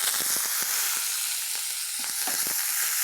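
Green curry leaves hit hot oil for tempering in a bottle gourd thoran, producing a loud, close, continuous sizzle and hiss with scattered crackling pops.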